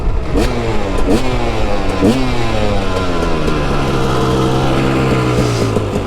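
A 2009 KTM 250 EXC dirt bike engine revs hard and close while riding, with several sharp throttle blips and gear shifts before settling into a long, gradually falling drone.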